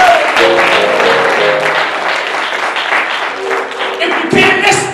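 A church congregation claps during a sermon, a loud, dense wave of applause with voices and shouts mixed through it, tapering slightly before a final swell.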